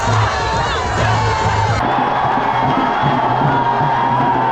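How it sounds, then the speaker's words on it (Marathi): A large crowd cheers and shouts continuously and loudly at a village temple fair held in honour of the goddess Rayba, with a steady, dense roar of voices throughout. "आता गर्दी बघा किती झाली बघा"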